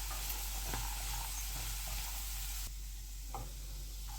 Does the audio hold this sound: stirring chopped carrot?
yes